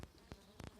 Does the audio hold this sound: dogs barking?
no